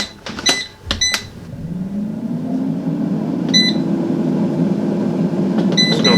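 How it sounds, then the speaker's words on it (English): Corned beef Reuben hot dogs cooking in an air fryer, a steady low fan hum and faint crackling sizzle that settles in after a few clicks and short electronic beeps at the start, with more beeps midway and at the end. "Oh, sizzling."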